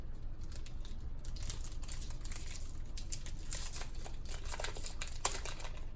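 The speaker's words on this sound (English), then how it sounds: "So let's go ahead and just rip them open in order." Trading card foil packs from a sports card blowout box are torn open at close range, giving a steady crinkling and ripping texture for several seconds with a sharp snap near the end and no talking.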